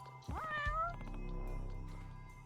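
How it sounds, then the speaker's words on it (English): A cat meows once, a clear rising and falling cry close by, followed by a low steady hum in the background with no talking. "A cat that I can hear from a mile away, apparently."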